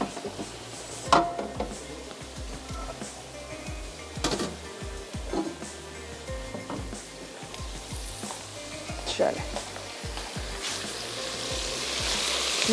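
Chicken with bay leaf cooking in a pan, a steady loud sizzle and fry with occasional stirring scrapes and knocks, a brief word spoken over it.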